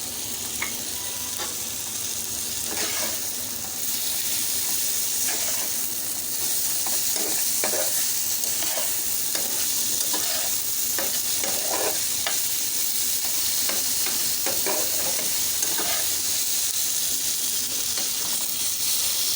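Tomatoes stirred and frying in a pan give a steady, close sizzle with repeated scraping clicks of the stirring utensil, continuous and alone without talk.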